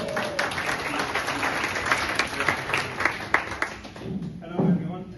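Applause at a pitch event at the Salinas Bio Summit: a crowd claps steadily for about four seconds before it thins and fades, with voices heard over it.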